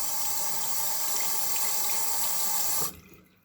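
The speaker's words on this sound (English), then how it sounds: "I'm just going to wash my hands." A tap runs steadily into a sink as hands are rinsed, a close, loud gush of water that cuts off abruptly near the end.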